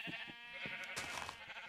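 Sheep bleat in the video game Hypercraft, several short wavering cries overlapping in quick succession, fairly loud and close, with no talk.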